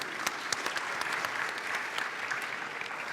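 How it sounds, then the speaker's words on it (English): A conference audience claps for the co-founders of two coffee brands on stage, a dense and even burst of applause from a sizeable crowd that keeps going throughout. "Give a round of applause for these guys"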